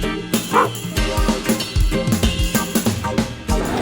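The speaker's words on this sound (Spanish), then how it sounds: "aquí vemos a Crypto, hombre, el perro de Superman" A dog dressed as Krypto, Superman's dog, at Comic-Con Málaga gives a few short yips and barks amid a busy, noisy crowded hall.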